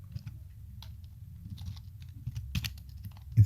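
Sparse, soft taps on a computer keyboard during a web coding session, irregular and fairly quiet over low background hum, with a slightly louder clack at the very end.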